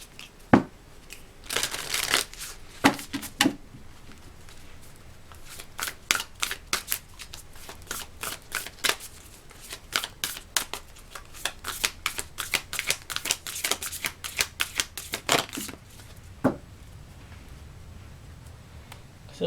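Tarot cards being shuffled by hand, a series of crisp riffling and slapping bursts in irregular clusters, close and fairly quiet, with short pauses between handfuls and no talking.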